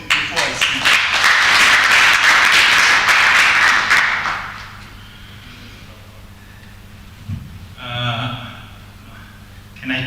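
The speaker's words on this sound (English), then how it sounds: "please clap hands for him before I speak" Sustained applause from an audience for a speaker at a live event, dense clapping for about four seconds before it fades out, leaving quiet room sound and a brief voice.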